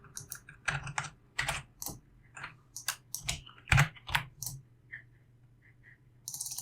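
Fingers type on a computer keyboard while a landing page is built, with irregular bursts of crisp key clicks, some louder taps and short pauses, close and clear with no talking.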